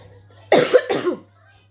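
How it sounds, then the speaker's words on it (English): Two quick, harsh coughs close to the mic, one right after the other, over a faint low hum. "I have just got trickly cough"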